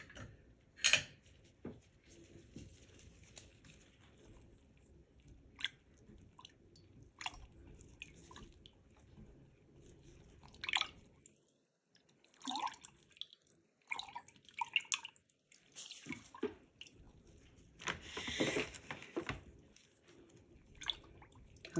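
Homemade cucumber melon shower gel being stirred by hand, soft wet squishes, light utensil clicks and scrapes coming in scattered bursts, quiet and close with pauses between.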